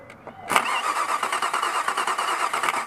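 A car's starter motor cranks and the engine catches, giving a sudden burst that settles into a rough, pulsing run close by. The starter has a dead spot.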